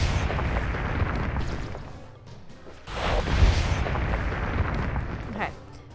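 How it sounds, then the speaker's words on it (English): Heavy booming gunfire from a giant enemy in the 2D flying game Owlboy, dense rumbling blasts in two long bursts under a player talking. "so we're trying to avoid giant gunshots,"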